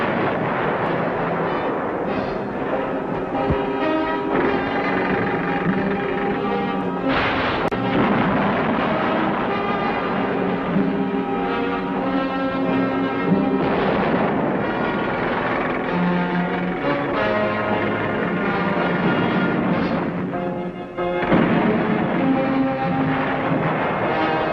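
WWII battle footage from Peleliu with Marines under fire, a dense continuous rumble of artillery and explosions with heavy booms, loud and sustained, with no voices.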